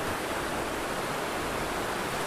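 Steady broadband rush of a river's flowing water near the Jimenoa river in Jarabacoa, a constant even wash with no voices over it.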